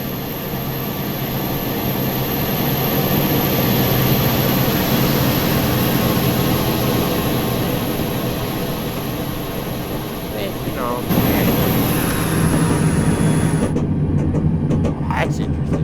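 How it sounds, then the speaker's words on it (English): A diesel locomotive engine modeled on an SD45 in Train Simulator drones steadily with a loud, constant rumble and high whine, shifting in tone near the end while a voice talks over it. "Engine sounds, I'm pretty sure, came from the SD45."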